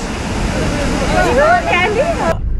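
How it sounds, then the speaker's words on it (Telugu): Water from the open gates of Srisailam dam roars in a dense, continuous rush, loud and steady, while a voice talks over it and birdlike whistling tones chirp briefly before the sound cuts off. "డ్యామ్ నుంచి ఏదైతే వాటర్ ఫ్లో అయ్యి బయటకు వస్తున్నాయి కదా, ఆ ఫ్లో అయ్యే ఫోర్స్ ఇక్కడ దాకా వస్తుంది."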